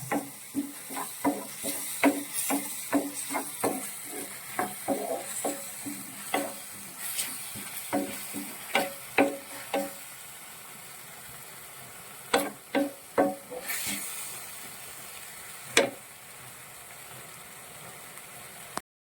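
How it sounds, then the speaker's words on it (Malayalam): Tomato sauce masala for a noodle dosa filling sautéed in a pan, a long run of sharp, rhythmic spoon scrapes and taps against the pan over a soft sizzle, thinning out toward the end, with no talking. "രണ്ട് സ്പൂണോളം തക്കാളി സോസും കൂടി ആഡ് ചെയ്തിട്ടുണ്ട് ഇത് നന്നായിട്ടൊന്ന് സോട്ട് ചെയ്തെടുക്കുക"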